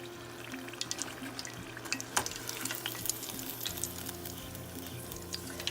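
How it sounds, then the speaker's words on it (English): Cheese-filled egg rolls fry in oil with a soft, continuous sizzle and scattered pops, quiet and close, with a faint steady hum underneath and no talking. "So we're really just frying it so that the cheese melts and we get that nice gooey center."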